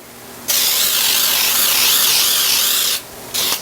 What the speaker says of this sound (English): I'm going to spray it with Baker's Joy.